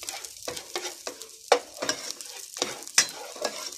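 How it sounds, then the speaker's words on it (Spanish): Chopped onion frying in melted butter in a pan, a steady soft sizzle broken by repeated scraping stirs of the spoon, close and moderately loud with no talking. "ahora sí le ponemos la cebolla. Que se fría"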